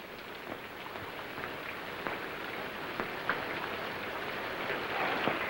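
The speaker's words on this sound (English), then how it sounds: "Hurry up, it's raining." Steady rain falls at night in a 1945 film, a continuous dense hiss with scattered sharper drop ticks, holding an even level throughout with no voices.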